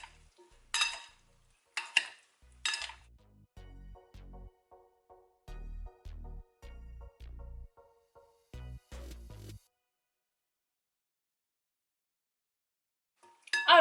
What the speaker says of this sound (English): You have to mix with your 2 hands, with 2 spoons, just like this.